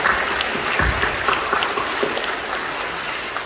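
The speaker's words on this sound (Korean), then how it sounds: "우리 박수로 격려해 주시죠" A church congregation claps together during a Sunday service, a dense, steady burst of many hands that fills the room and slowly fades over a few seconds.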